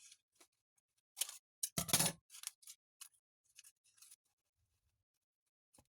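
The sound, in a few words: scissors snipping crepe paper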